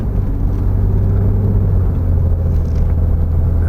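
A vehicle engine pulls in second gear along the winding Devils Tail Road, a steady, close, low rumbling drone with a constant whir that holds evenly throughout, with no talking.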